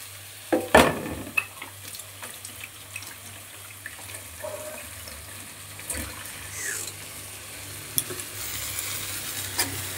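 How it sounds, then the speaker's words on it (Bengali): Prawns sizzle and fry in a pan for butter prawns, with stirring and scraping throughout, a few sharp clatters of utensils, and a steady moderate crackle close by. "এবার আমি দিয়ে দিচ্ছি চিংড়ি মাছগুলো। এই দেখো, চিংড়ি মাছগুলো আমি"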